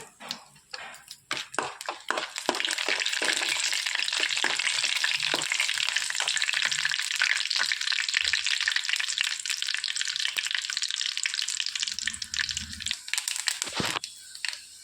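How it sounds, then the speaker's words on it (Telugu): Whole spices, marathi moggu, cardamom and cloves, frying in hot oil for a chicken soup tempering, a steady close sizzle with crackling pops and a few stirring scrapes running throughout. "మరాఠీ మొగ్గ, యాలకులు, లవంగాలు వేసేసుకొని వేయించుకోవాలి."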